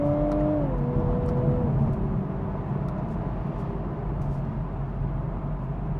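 A Toyota GR car's engine auto-blips during a quick gear change on a damp road, its note stepping down twice in quick succession before settling into a steady drone over road noise.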